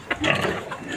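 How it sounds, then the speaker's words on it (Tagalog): A pregnant sow on a farm grunts and oinks in several rough, close bursts over about a second, loud and unaccompanied by talk. "ito, pangalawang inahing baboy guys"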